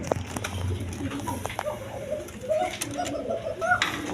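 A pair of pigeons, Dennis and tiger-coloured, coo softly from nearby, several low rounded calls spread across a busy background with light patter and some talk.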